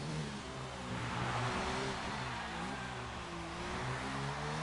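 A Formula-style racing car engine drones through a flying lap in a sim racing game at the Canada round, holding a steady high whine that shifts pitch slightly, heard fairly quietly and continuously.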